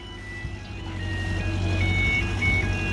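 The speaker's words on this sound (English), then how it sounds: "That's music of cement arriving at the work site just in time." A cement delivery truck's loudspeaker plays a tinny, looping electronic melody over a low, steady engine rumble at a work site in the Philippines, growing a little louder as it nears.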